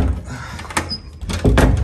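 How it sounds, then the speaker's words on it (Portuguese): A door being pushed shut that fails to latch, with several dull thumps and knocks close by, a louder bump near the end. "Fecha, a porta não fecha."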